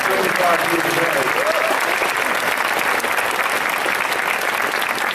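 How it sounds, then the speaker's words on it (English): An audience applauds a couple's 75th wedding anniversary, with dense, sustained clapping that fills the room at a steady loud level throughout. "Let's give them a big round of applause."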